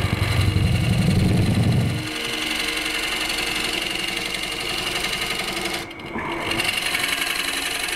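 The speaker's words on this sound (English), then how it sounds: "I'm going to apply both cutting surfaces at the same time, so the top one will stop the bottom one from biting in too deeply" A chisel cutting a wood bowl on a large lathe, a loud, steady droning whir of the spinning workpiece and motor with a rougher cutting texture early on, continuing throughout.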